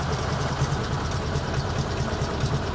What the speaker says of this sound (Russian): Регулируем холостой ход.